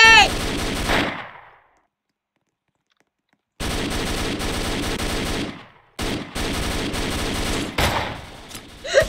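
AK rifle fire in the Roblox game Liberty County: loud rapid automatic bursts, a long burst, then silence, then several more sustained bursts broken by short gaps, with no talking over them.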